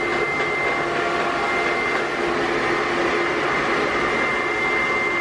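A vacuum cleaner runs indoors with a steady, even whine and hiss that stays level from start to finish, fairly close and continuous, with no talking over it.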